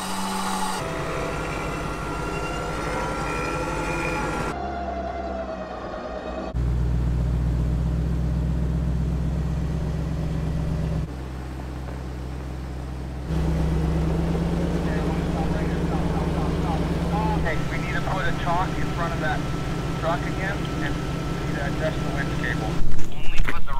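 A heavy truck winches a stranded 20,000 lb truck back onto the road, its engine droning low and steady with a mechanical whine shifting through stages, while people talk over it.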